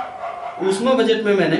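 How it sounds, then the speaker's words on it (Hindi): Dogs bark in the background, a cluster of barks under someone speaking steadily in Hindi in the foreground during a lecture. "पता नहीं कहां से कुत्तों का भौंकना अचानक से आने लगा"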